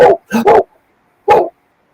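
A pet dog named Dingo gives a few loud, close barks, two quick ones followed by a pause and then a single bark, with quiet gaps in between.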